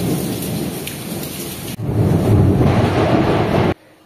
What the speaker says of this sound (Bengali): শুনতেই পাচ্ছ তোমরা কত জোরে জোরে বিদ্যুৎ চমকাচ্ছে